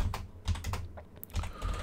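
Quick bursts of keystrokes tap on a computer keyboard, several fast clicks with short pauses between, heard up close and quiet with no voices.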